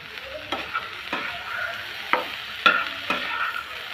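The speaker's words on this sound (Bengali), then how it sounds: "এইভাবে আমি আর দু মিনিট ভেজে নিব" Egg and eggplant sizzle in a hot pan while being stirred, a steady frying hiss broken by several sharp scraping strokes of a spatula, close and clear with no voices.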